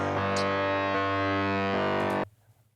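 A song plays as a dense, heavily processed mix with a slight delay on the vocals, sustaining loudly before cutting off abruptly near the end, with faint repeats trailing into quiet.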